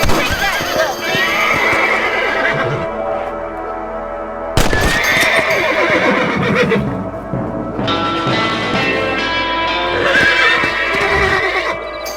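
Horses whinnying loudly in Red Dead Redemption, several drawn-out neighs with clip-clop hooves and game music, a voice talking between them.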